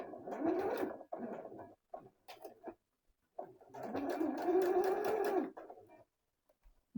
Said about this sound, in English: I'm going to start my sewing.